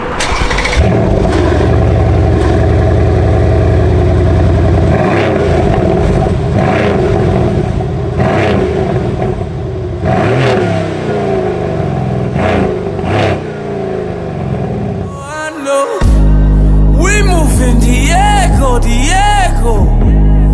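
A Mercedes C63 Edition 1 engine revs loudly and close up, with repeated rising and falling blips of throttle. The sound surges into a sharper, harder roar near the end.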